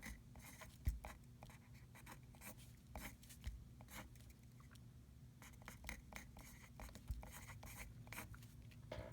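Pen or pencil scratching on paper as polar coordinates are written out by hand, a quiet, continuous run of short scribbling strokes with small taps, close up and without talk.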